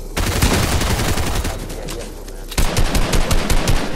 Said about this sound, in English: Oh, I'm literally getting shot.